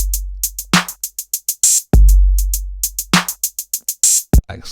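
Hi-hats in an electronic drum pattern, their hits varied in loudness by a MIDI velocity device, ticking in a quick, steady rhythm around heavy kick drums, crisp and close with no talking.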